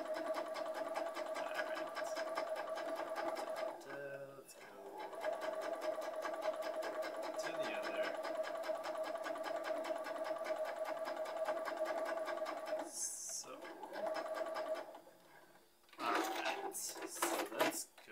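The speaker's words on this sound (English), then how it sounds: "Embroidery machine." A machine whirs steadily with a fast, even mechanical stitching rhythm for most of the time, briefly pausing, then a few clunks and handling noises near the end.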